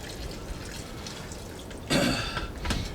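Water poured into a thick concrete mix in a shop, a short splashing gush near the end after a quiet stretch, followed by a fainter second splash.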